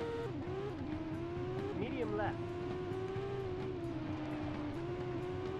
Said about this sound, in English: They're right behind me, I can hear them.